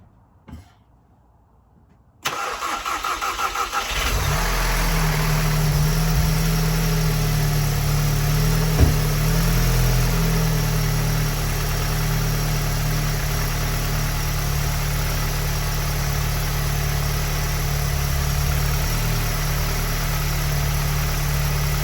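Car engine with a newly installed high-pressure fuel pump cap and line kit cranking briefly after a near-silent start, then catching and settling into a steady, loud, even idle that runs on close by without talk.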